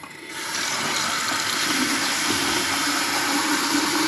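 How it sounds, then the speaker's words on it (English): Tap water gushes on after a brief moment and runs steadily into a film developing tank, a loud continuous splashing rush with no voices. "put that straight under a clean tap water wash"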